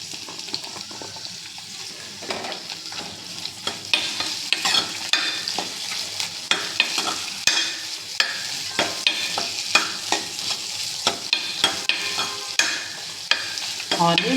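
Onions fry in a hot pan with a continuous sizzle, while repeated scraping strokes of a spoon stirring them sound close and rhythmic through most of the clip.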